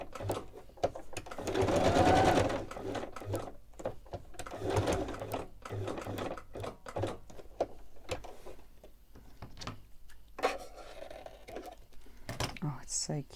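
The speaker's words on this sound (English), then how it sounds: "And let's just stitch around this one." A domestic sewing machine stitches around a small fabric craft piece in short mechanical runs with brief pauses between them, close and fairly loud, with soft handling noises in between.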